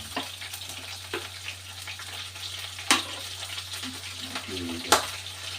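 Garlic sizzles and crackles in hot oil in a pan while vegetables are being cooked, a steady frying hiss with a few sharp pops and stirring scrapes, close and moderately loud.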